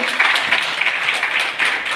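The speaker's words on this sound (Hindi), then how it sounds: "तो एक बार आप लोग सब अपने लिए तालियां बजा लें" Audience applause at a women's seminar event for a Gramin Nidhi Bank, a dense steady wash of many hands clapping together, fairly loud and continuous throughout.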